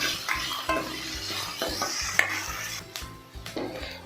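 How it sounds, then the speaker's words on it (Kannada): Finely chopped onion frying in a pan for potato curry, stirred briskly with a metal spatula: repeated scraping and clinking over a bubbling sizzle, close and fairly loud. "ಆನಿಯನ್ ಸಾಫ್ಟ್ ಆಗೋವರೆಗೂ ಚೆನ್ನಾಗಿ ಫ್ರೈ ಮಾಡ್ಕೋಬೇಕು"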